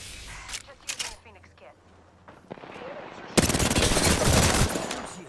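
Apex Legends arena gunfire: scattered sharp shots early on, then a dense, loud burst of automatic fire over the last two seconds, with game voice lines nearby.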